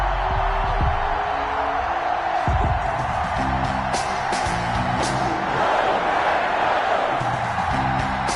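Stadium crowd in an EA Sports NFL video game, Cincinnati Bengals against Green Bay Packers, a dense continuous roar of cheering and whooping, steady and loud throughout.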